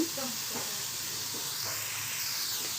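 Soy chunks tossed with salt sizzle in a hot frying pan, giving a soft, steady hiss that stays faint and even, with a brief murmur of voice at the start.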